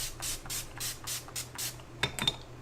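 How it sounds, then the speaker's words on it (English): Urban Decay All Nighter setting spray misted onto a face in a quick series of about seven close, sharp hissing pumps, followed by a few softer clicks and short sprays. "So Urban Decay All Nighter. Again, my all-time favorite setting spray."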